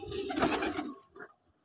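A pet pigeon gives a close, throaty coo that rises and then breaks off, followed by a quieter second call.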